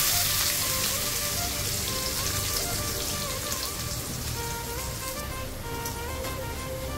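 Onions fry in a pan of hot oil, giving a dense, steady sizzle and crackle that stays close and even throughout, with no talking over it.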